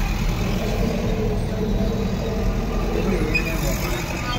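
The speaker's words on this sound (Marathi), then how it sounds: "आणि फुल ट्रॅफिक आहे" Heavy road traffic rumbles in a continuous low roar of engines from trucks, buses and cars passing nearby, loud and unbroken, with people talking over it.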